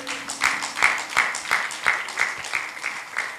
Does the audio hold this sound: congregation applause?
yes